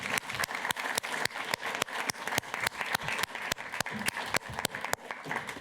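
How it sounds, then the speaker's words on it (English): A small audience claps at a startup demo day after the final pitches, with sharp, rhythmic claps and a light crowd murmur. "And I'll ask everyone to give them one last round of applause"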